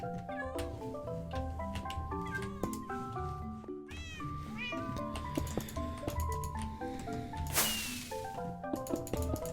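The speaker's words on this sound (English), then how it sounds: "Bye bye, cat." A cat in the video game Minecraft meows repeatedly over layered tonal game sounds, its calls fairly clear and close with no speech.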